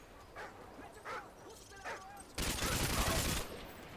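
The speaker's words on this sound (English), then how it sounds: "Fucking dogs." Dogs in the Call of Duty MW2 video game bark in a few sharp separate bursts, then a dense loud blast of gunfire or barking takes over at the end, with a voice mixed in.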